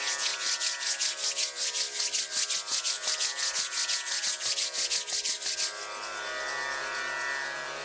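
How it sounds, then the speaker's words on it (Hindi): Two palms rub briskly together in a fast, steady back-and-forth rhythm at close range for several seconds, then the rubbing stops and only a soft room hum remains. "और अब धीरे से दोनों हाथों को आपस में रगड़ते हुए"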